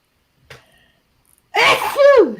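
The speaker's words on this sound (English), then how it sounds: "That's a sneeze." A person sneezes once up close, loud and sudden, after a faint click and a stretch of near silence.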